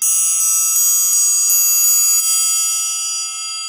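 Metal triangle played with the wrist raised for a softer, diffuse tone: a series of about seven evenly spaced light strikes over a steady bright ring that slowly decays, close and unaccompanied.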